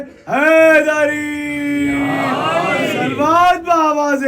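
At a religious majlis gathering, a crowd shouts the slogan Haidari in response to a call, voices rising together in a loud, drawn-out chant that swells and then breaks off.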